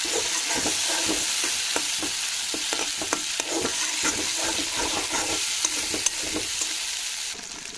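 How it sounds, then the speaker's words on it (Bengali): Spices fry in a pan for a noodle dish, a steady close sizzle broken by frequent sharp taps and scrapes of stirring throughout. "এই যে মশলা ভাজা হয়ে গেছে"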